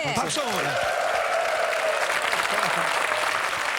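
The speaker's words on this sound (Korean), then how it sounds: "그럼 박수" Applause from military academy cadets and audience on a TV show, steady clapping throughout with a voice speaking over the start.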